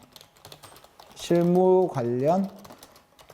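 Keys clicking on a computer keyboard while someone types a practice document with footnotes in an office-administration lesson; the light, rapid tapping runs faint beneath a short spoken phrase.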